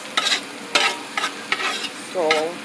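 A large quantity of pork cooking with garlic for sweet and sour pork is stirred in a big pot, with about five scraping stir strokes over a steady frying sizzle and a brief squeak near the end.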